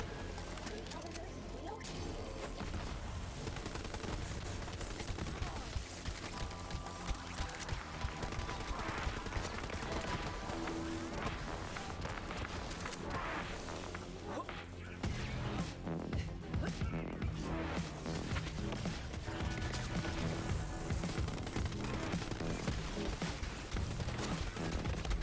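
Rapid gunfire from the Breath of the Dying gun in Borderlands 3 rattles almost without pause, mixed with crunchy explosions and game music, loud and busy, while a voice talks over it.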